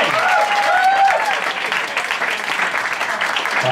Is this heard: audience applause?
yes